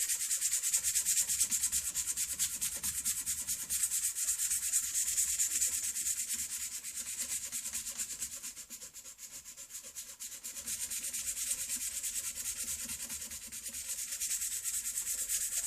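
Steady close rubbing of wet sandpaper on a wooden stock for a 1790-style flintlock shotgun, a continuous hiss with a brief dip in the middle, no talk.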